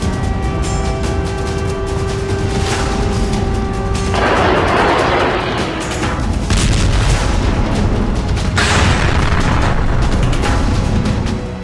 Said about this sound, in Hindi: गाजा में एक नहीं बल्कि कई जगहों पर इजराइल ने एयर स्ट्राइक की।